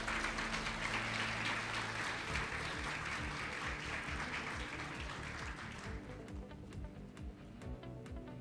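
Audience applause at a national award ceremony honouring outstanding teachers, a dense, fairly distant wash of clapping that thins toward the end into scattered individual claps.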